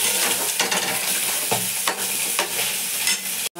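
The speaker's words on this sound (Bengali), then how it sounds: "ভাজা আলু দিয়ে মশলাটাকে নেড়ে নিলাম," Fried potatoes are turned through a turmeric and sugar spice paste in a hot pan, with a continuous close sizzle punctuated by distinct scraping spatula strokes at irregular intervals, no one speaking.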